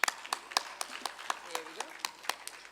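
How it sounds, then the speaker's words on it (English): Sparse, irregular hand claps at a plenary session, individual sharp slaps spaced unevenly rather than a full ovation, fairly close and moderately quiet, with faint background voices. "We have Zimbabwe in the house. Big round of applause."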